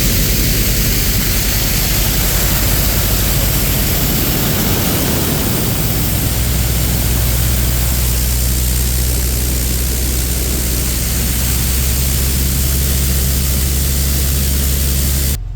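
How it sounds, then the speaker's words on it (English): Drain jetter turbo nozzle spraying water to cut through tree roots, a loud, steady roaring hiss that goes on without a break, with a deep low rumble building in partway through and no voices. "the turbo nozzle's out, and this will cut through the tree roots."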